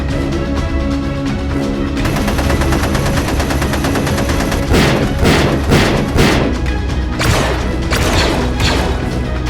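Rapid gunfire volley from a fight scene, loud and continuous with repeated sharp bursts and crashes layered over a dense rumbling battle din.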